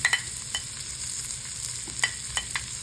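Onion tossed into a hot pan with garlic for sweet and spicy chicken wings, giving a steady low sizzle broken by a few sharp stirring clinks and scrapes.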